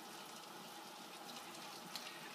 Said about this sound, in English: And there goes the water.